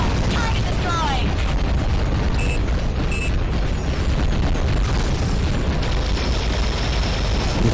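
An explosion in the underwater combat game AquaNox, a loud continuous booming rumble with sharp electronic blips on top, thick and dense from start to finish.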